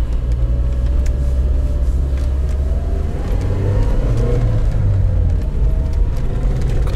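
A Lada Niva on Nokian RS2 winter tyres drives a slippery snowy road near Orenburg, giving a steady, loud engine drone and low road rumble throughout, with no talking.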